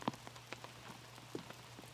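Rain falling on a disc golf course, faint scattered drops pattering on the ground over a quiet background.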